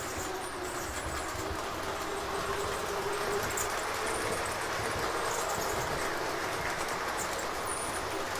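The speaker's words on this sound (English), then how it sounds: "here's our fast train coming into the block, and the block is red, so it's slowing that freight train down" An O-gauge model train rumbles steadily along layout track, a continuous close rolling clatter with faint wheel squeal, with no voices.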